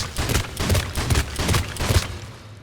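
Rapid full-auto blasts from the Piranha shotgun in Mass Effect 3, about seven punchy booms in quick rhythmic succession, close and loud, fading off at the end.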